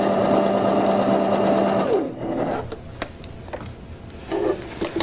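A sewing machine stitches a tote bag seam, its needle running in a loud steady whir that slows and stops partway, then gives a few scattered clicks and short bursts as the fabric is repositioned.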